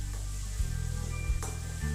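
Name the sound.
stirring sizzling maize mixture in a kadhai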